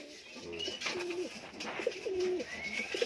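Tippler pigeons coo inside a loft, with several soft, throaty calls repeating close by at a steady pace against a low background murmur.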